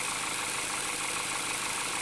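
A Ford Fusion car engine idles with a steady, even broadband hum and faint vibration, sounding close and constant with no talk over it.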